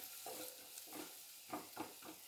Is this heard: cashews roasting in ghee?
yes